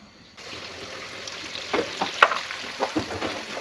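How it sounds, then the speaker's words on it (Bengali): Four chopped onions dropped into hot oil to fry for beresta, a sudden steady sizzle starting near and loud with irregular crackles and spoon scrapes over a hiss, no talking. "এখানে 4টা পেঁয়াজকে আমি কুচি করে নিয়েছি বেরেস্তার জন্য"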